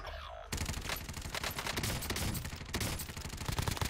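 PPSh submachine gun fire in Warzone, a loud, sustained burst of rapid automatic shots after a brief quieter moment, continuing with a short break near the end.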